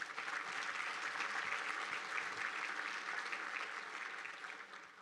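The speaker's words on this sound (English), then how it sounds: "Let's give them a round of applause." An audience at an Oro Valley economic outlook event applauds, a steady sustained clapping from a crowd that holds evenly and then begins to fade at the end.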